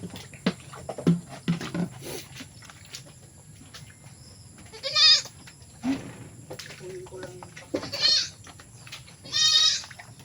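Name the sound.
goats bleating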